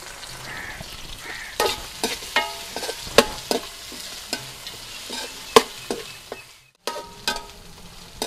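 Onions, tomatoes, green chillies and curry leaves sauté in a pan with a steady close sizzle, punctuated by repeated sharp scrapes and clanks of a spoon stirring against the metal, with a brief pause near the end.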